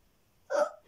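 A child lets out a single short hiccup, a quick voiced catch of breath, close and clear after near silence.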